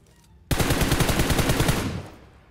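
A sustained automatic-weapon burst fired at a boss in PUBG Mobile starts abruptly and rattles loudly and rapidly for about a second and a half before fading, with no talking.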